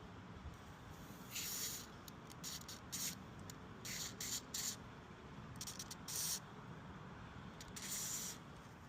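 White lithium grease sprayed into a Honda Civic door lock cylinder: several short hissing aerosol bursts, close and moderately quiet, separated by pauses over a low background rumble.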